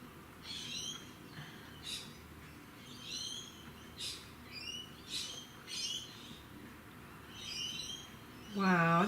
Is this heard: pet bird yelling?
yes